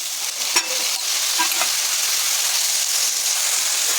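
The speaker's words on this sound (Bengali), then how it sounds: "এই আমি একবার নাড়াচাড়া দিয়ে দিলাম।" Vegetable curry stirred in a frying pan: a steady close sizzle and hiss throughout, with a few soft scraping stirs near the start.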